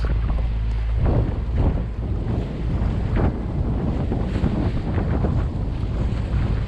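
A sailboat pushes through building swell between islands, wind above 20 knots roaring steadily across the microphone with rushing water and hull noise throughout, loud and continuous.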